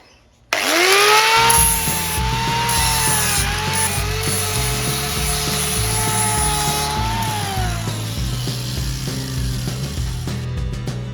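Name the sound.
grinding the edge off a Triumph Bonneville Bobber exhaust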